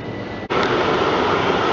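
A Class 378 electric train departs toward Stratford with a loud, steady rumbling roar that briefly dips and then continues close by.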